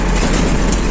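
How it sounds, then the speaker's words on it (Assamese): A passenger train passes close by, a loud continuous heavy rumble of wheels and engine that fills the brief moment without pause. "টাইম পিছত ট্ৰেইন এখন দেখা পালো"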